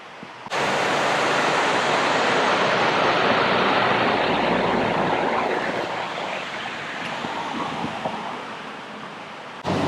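Broad rushing wash of a river flowing in Cedarburg, Wisconsin, a loud continuous roar heard up close that starts abruptly and eases slightly toward the end.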